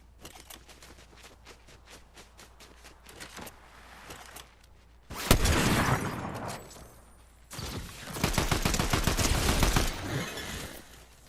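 Sniper rifle gunfire in a video game: two loud, sharp blasts with crackling tails, the first around five seconds and a second, longer burst near eight seconds, following a stretch of quieter clicking game sounds.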